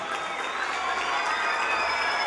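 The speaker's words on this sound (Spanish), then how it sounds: "vamos a pedir un aplauso para su compañerita" An audience at a school reinauguration in Venezuela applauds a schoolgirl, a steady, moderately distant wash of clapping with faint cheering mixed in.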